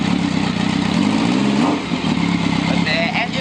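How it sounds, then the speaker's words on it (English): A 4-cylinder Honda motorcycle running with no baffles in its exhaust gives a loud, low, steady engine note that swells briefly as if revved, close by throughout. "Started up. Hear the exhaust."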